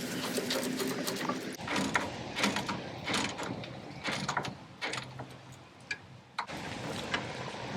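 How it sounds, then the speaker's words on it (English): An 11/16 wrench and socket snug a bolt during a Ferguson TO-20 generator-to-alternator conversion, giving close, steady ratcheting clicks and metallic mechanical ticking with brief pauses. "Now with the 11/16 wrench and socket,"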